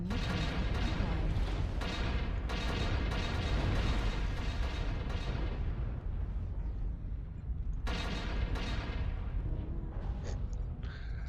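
Rapid volleys of autocannon fire from a MAL-1R mech in MechWarrior Online, loud dense booming bursts in repeated clusters, a short lull, then more shots resuming near the end.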